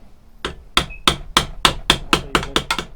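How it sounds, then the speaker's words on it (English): A hammer strikes a steel chisel to split rivets off a knife tang, about ten sharp metallic blows that come faster toward the end, close and loud. "let's try splitting it with a chisel quickly"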